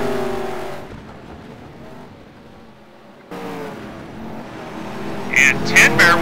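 Race cars in a racing video game drone with a steady engine note that dips quieter for a couple of seconds, then swells again, with sharp high squeals or tyre-like bursts near the end.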